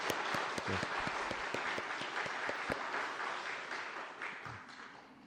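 A church congregation at an Easter service claps together in sustained applause, dense and steady, with a few louder individual claps at the start, gradually tapering off toward the end.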